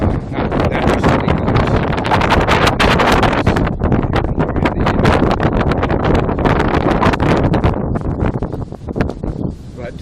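Strong wind at an observation tower above a gorge, loud and continuous, roaring and buffeting the microphone for several seconds before easing a little at the end.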